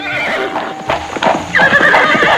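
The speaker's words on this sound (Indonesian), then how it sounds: "Mereka memacu kudanya cepat-cepat" Horses spurred fast on a journey in a Sundanese historical tale gallop with loud, close clip-clop hoofbeats, and shrill neighs and whinnies rise over the drumming, with no talk.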